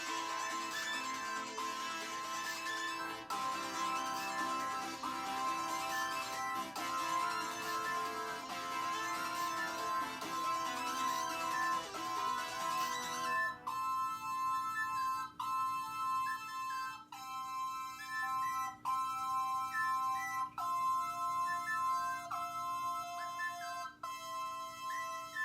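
A GarageBand-built electronic song plays at full volume with layered parts, then the other parts drop out and only looped chords repeat on their own with sparse, steady stabs until the end.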